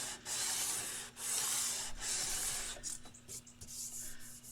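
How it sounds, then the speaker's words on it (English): Close, steady back-and-forth rasping as 220 grit paper on a 12-inch radius sanding block levels new frets on a vintage Hohner Shark fin guitar, long strokes with short breaks between them. "It won't take long to sand this. This is the 12-inch radius block with 220 grit paper."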